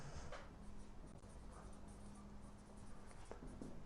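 Pen or marker writing on a surface, soft continuous scratchy strokes with a few brief taps, steady and close, with no talking.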